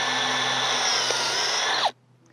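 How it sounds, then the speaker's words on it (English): A power drill bores steadily into a tree's bark for a trunk injection, a close, loud, continuous whine that cuts off abruptly after about two seconds. "you're gonna wanna drill 3/4 of an inch to 1 inch past the bark"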